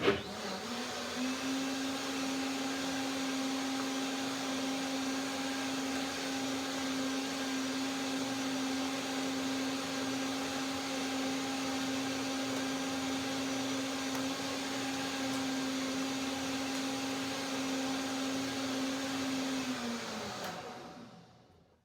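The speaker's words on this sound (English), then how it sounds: "So one more blender dance." A blender motor runs steadily for about twenty seconds blending a cayenne vinegar sesame seed (tahini) dressing, a constant whirring hum with no talk, then winds down at the end.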